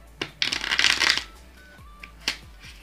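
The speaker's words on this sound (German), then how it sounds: "Hierfür kann der Zuschauer oder auch ich das Kartenspiel erstmal durchmischen." A deck of playing cards riffled and shuffled by hand for a magic trick, a dense burst of crisp flutter lasting under a second, with a few lighter taps and card snaps after it, no talking.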